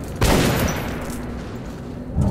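Gunfire in the video game Metro 2033 rings out in a loud burst, with a sharp opening blast that decays into an echoing tail before another shot hits near the end.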